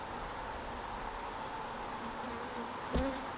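Honeybees hum steadily from an open hive in a soft, close, even drone, with a brief sharp knock or bump near the end.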